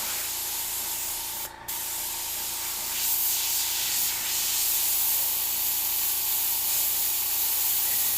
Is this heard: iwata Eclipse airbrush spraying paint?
yes